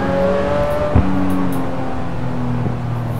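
A car engine in the video game Assetto Corsa hums and revs steadily with a whirring tone and a brief bump, close and continuous, with no speech.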